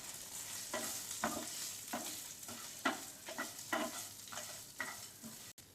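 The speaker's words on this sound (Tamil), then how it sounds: "இப்போ அந்த தேங்காவையும் நல்லா வதக்கலாம்" Grated coconut sautéing in a pan, with rhythmic scraping strokes of a spatula about twice a second over a soft continuous sizzle, close and fairly quiet.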